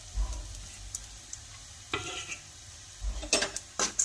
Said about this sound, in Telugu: ఇలా పోపు పెట్టిన తర్వాత మనం ఈ వేయించుకున్నటువంటి ఈ కాకరకాయలు మొత్తం